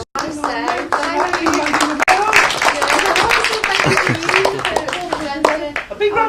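Audience clapping and applauding at a closing event, loud dense hand claps throughout while a voice keeps talking over them.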